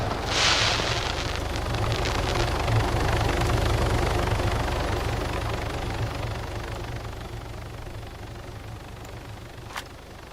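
A helicopter in the survival video game DayZ thrums steadily with a low rotor drone and a broad wind-like rush that slowly fades over several seconds, with a brief sharp click near the end.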